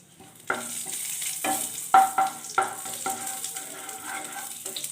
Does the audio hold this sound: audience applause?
no